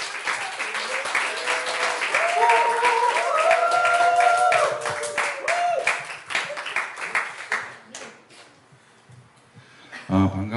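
A church congregation claps and applauds to welcome the pastor at a next-generation mission service, a dense, loud wash of clapping that runs for several seconds with music tones rising through it, then thins and fades near the end.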